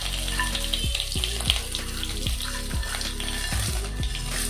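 Fenugreek, coriander seeds, urad dal and chana dal frying together in a pan for sambar give a steady close sizzle with light stirring clatter throughout, no talk.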